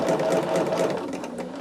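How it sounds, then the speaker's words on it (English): A sewing machine stitches a quarter-inch seam in one short, close, continuous whirring burst, heard on its own. "So what I do here is I sew this at 1/4 inch."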